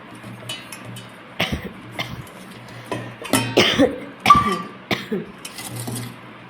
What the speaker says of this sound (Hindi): खांसी आ रही है बस।